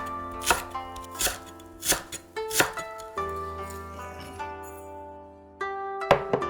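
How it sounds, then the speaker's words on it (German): A knife chops sliced spring onions on a cutting board in a home kitchen: several sharp, close thuds in an uneven rhythm, with a sustained tonal ringing between the cuts. "Lochzwiebel in Scheiben schneiden."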